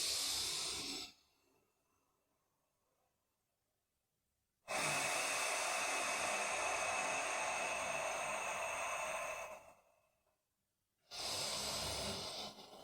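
Slow, full breaths during a beginner 90/90 hip external rotation drill: a long, loud, airy inhale, a pause, then another long breath, heard close and alone.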